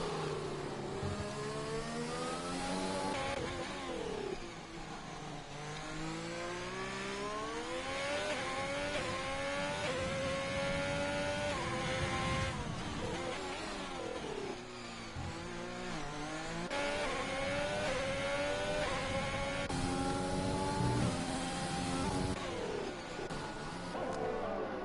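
F1 2020 race cars at Bahrain in an online league race: high-pitched engines rev and shift up and down continuously, loud and close, with sweeping pitch climbs and drops as cars fight for position.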